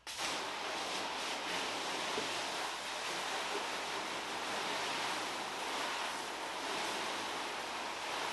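A steady, broad rush of sprayed water rinses a car that has been washed with soap, continuous and fairly close with no breaks and no talking.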